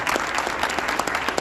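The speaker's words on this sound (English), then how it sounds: "Yes, give yourself a round of applause." Audience applause at the 2021 Atlantic City State of the City address, a dense, steady wash of many hands clapping close and loud for the whole short stretch, with no talking over it.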